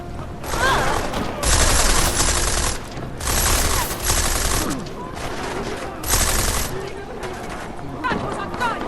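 Gunshots in Deus Ex: Mankind Divided ring out as loud, dense bursts of rapid fire in several waves, mixed with shouting voices and chaotic noise.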